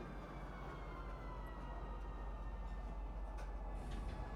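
Steady, loud rumble and drone of a train pulling into a spaceport station in the science-fiction game Star Citizen, with a constant low roar and a faint high whine over it throughout.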